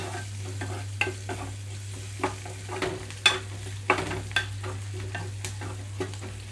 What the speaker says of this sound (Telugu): రెండు నిమిషాలు ఇలా కదిలించుకుంటూ వేయించుకోవాలి మాడిపోకుండా